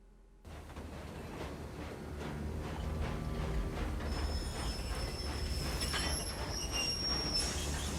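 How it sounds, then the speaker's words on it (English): A train in the video game GUN rolls past with a rising rumble of wheels on rails, then high metallic squeals climb over the clatter in the second half, loud and continuous with no talking. "That is an ominous train."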